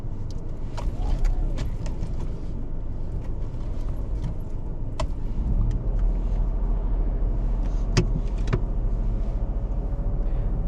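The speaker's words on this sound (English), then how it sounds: "I'd like to reverse back 2 car lengths roughly in a straight line" A car reverses about two car lengths in a straight line close to a kerb during a UK mock driving test. A low, steady engine rumble continues throughout, with faint ticks and light clicks over it and no talking.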